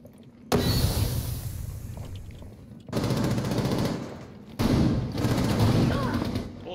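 Bursts of rapid automatic gunfire in an online shooter video game, three loud volleys each lasting one to two seconds with short gaps between, heard alone without talk.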